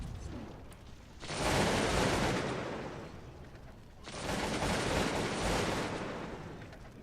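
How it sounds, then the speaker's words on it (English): Two massed musket volleys from troops in Cossacks 2, each a dense crackling roar of many shots erupting together and tailing off over a couple of seconds, the pair spaced about three seconds apart. "Volley! Alright, everybody that's got a gun and ready to fire, fire."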